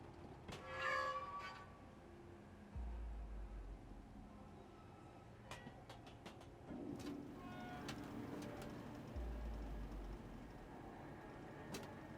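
A cat meows in the video game Stray in two or three clear cries early on, followed by game ambience with low rumbling, soft clicks and faint bird-like coos.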